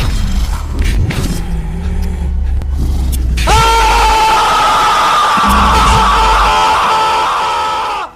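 Screams of a victim attacked by a worm-like creature, harsh, sustained, loud and anguished, over heavy rumbling and booming noise that fills the whole stretch.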